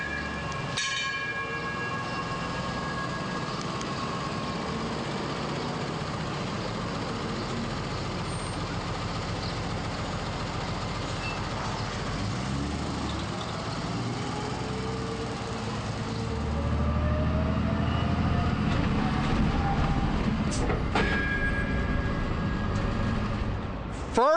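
A trolley on a historic downtown Stockton tour rumbles along in a steady, continuous drone with faint whining tones, and the noise grows louder and rougher in the final stretch.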